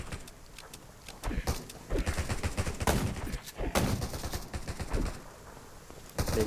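Gunfire aimed at zombies in Garena Undawn, a survival video game: repeated sharp shots in irregular bursts throughout, some closely spaced, others standing alone, over a busy background.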